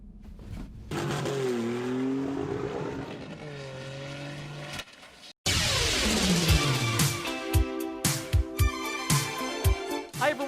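Car engine in a video game, revving hard through gear changes with bursts of acceleration, a brief cutout, then more racing revs and sharp impact-like hits, loud and close.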